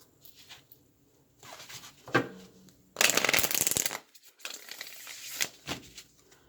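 An oracle card deck is shuffled by hand in several quick bursts of crisp riffling and flapping, with short quiet pauses between them, close and clear.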